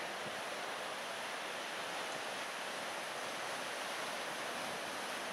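McDonald Creek rushes in a loud, constant roar on a forest trail, a steady wash of noise with no breaks or voices.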